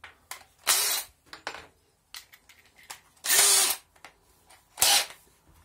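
A power drill drives self-tapping screws into a wooden workbench: three loud whirring bursts of about half a second each, separated by clicks, handling noises and short pauses.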